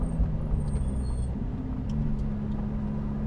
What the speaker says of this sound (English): We got water here. I got to go slow and not get this car all wet.